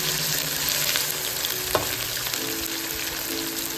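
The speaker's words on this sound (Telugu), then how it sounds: "దీంట్లో ఇప్పుడు మనం ఫ్రెష్గా వేసి పెట్టుకున్న అల్లం వెల్లుల్లి పేస్ట్ కూడా వేసుకుని బాగా ఫ్రై చేసుకుందాం." Ginger garlic paste frying for mutton pulao, a steady close sizzle with a few light stirring scrapes and one sharper clink midway, no voices.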